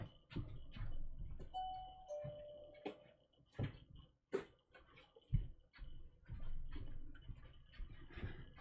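A wireless doorbell chime ringing indoors, a few faint sustained electronic tones sounding briefly among scattered soft clicks and knocks.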